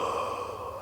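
A single long exhalation, breathy and sigh-like, drawn out over under a second with a voiced tone in it, close and fairly quiet, with no talking.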